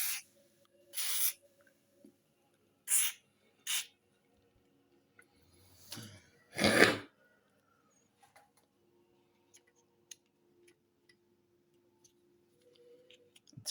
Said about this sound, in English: I'm gonna spray it all with WD-40.